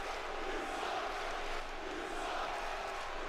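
Crowd in a WWE 2K wrestling arena jeering the champion, a dense, steady wall of booing and shouting voices with no clear gaps, moderately loud throughout.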